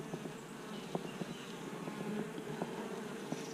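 Honeybees at an open hive during an inspection make a faint, steady buzz, with scattered louder individual bees passing close and no talk over it.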